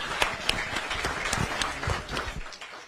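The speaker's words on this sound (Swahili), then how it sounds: "Tupigie baba makofi ya kipekee." Crowd applause for party leader Raila Odinga at a meeting with Nairobi grassroots leaders, a steady wash of many hands clapping close by with a few sharper claps standing out, fading toward the end.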